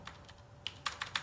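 Computer keyboard typing with a few crisp, close keystrokes, ending in a quick series of sharper taps including the Enter key, in a quiet room.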